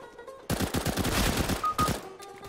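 Gunfire in the video game CS:GO: a rapid automatic burst of about eight close, sharp shots, then a pause and a couple more reports before the sound fades.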